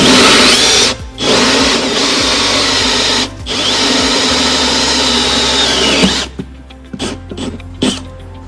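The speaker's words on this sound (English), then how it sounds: "Now I'm going to drill the hole from 35mm hole saw." Power drill running a 35mm hole saw through an RV wall for a toilet ventilation fan, a loud steady whir with two brief stops, then winding down into short bursts as the cut finishes.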